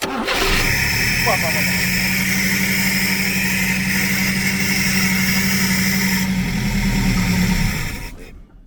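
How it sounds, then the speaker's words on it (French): A Peugeot 404 engine cranks and catches, then runs with a steady, loud idle for several seconds before cutting off abruptly. "on sait que le moteur démarre"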